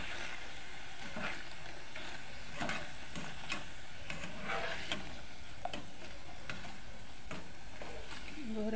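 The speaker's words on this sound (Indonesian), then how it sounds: "Goreng kerupuk itu cepat" Kerupuk crackers fry in hot oil with a soft, continuous sizzle, fairly faint, broken by light scattered ticks and crackles as they puff up.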